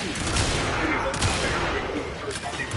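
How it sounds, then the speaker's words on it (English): Gunfire strikes the player in Warframe as a dense, loud volley of shots and impacts, sustained with little pause over a busy game mix. "Wow. I'm getting shot."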